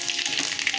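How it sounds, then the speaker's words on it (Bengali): Dry red chillies and mustard seeds frying in refined oil, a close, steady crackling sizzle with small pops throughout the brief moment. "দেখুন রিফাইন অয়েল দিয়ে দিয়েছি, শুকনো লঙ্কা দিয়ে দিয়েছি, আর সর্ষে ফোড়ন দিয়ে দিলাম"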